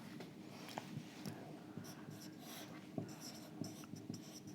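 Pen scratching on paper while a force diagram is sketched by hand during a lecture, soft close strokes and taps repeating irregularly, faint and steady.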